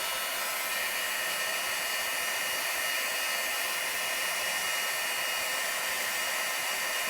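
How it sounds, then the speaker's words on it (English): A hot embossing heat tool blows a steady, close, even whoosh while melting embossing powder on snowflake images for a Christmas card, continuing unbroken with no talking. "Now I'm going to bring in my heat tool and I'm going to emboss them."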